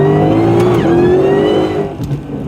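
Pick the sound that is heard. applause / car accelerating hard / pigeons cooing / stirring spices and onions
car accelerating hard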